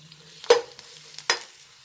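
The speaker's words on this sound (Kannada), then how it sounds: "ತುಂಬ ಫ್ರೈ ಮಾಡ್ಕೋಬಾರ್ದು ಇದು, 1 ನಿಮಿಷ ಸಾಕಷ್ಟೆ." Chopped garlic fries in a pan for chilli chicken, a soft background sizzle broken by two sharp stirring scrapes close by, with no voices.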